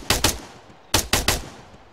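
An M4 rifle loaded with tracer rounds fires sharp, loud bursts nearby: a quick pair of shots, a pause, then a rapid group of three.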